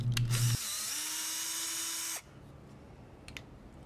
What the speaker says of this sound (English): what I'm gonna do is just drill a fairly good size hole, not too big